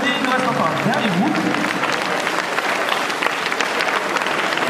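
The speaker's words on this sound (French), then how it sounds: "on leur fait un maximum d'applaudissements, un maximum de bruit" An audience applauds a cosplay group contest on stage, the clapping loud and dense throughout, with a compère's voice speaking over it and a brief whistle near the start.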